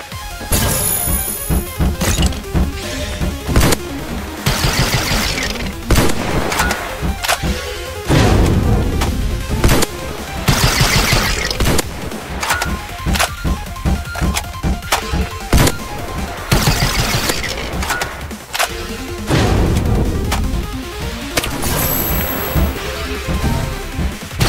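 A new shotgun fires in the Roblox game A Dusty Trip, with repeated loud blasts and crashing impacts over dense game sound, the shots coming in quick bursts and pauses.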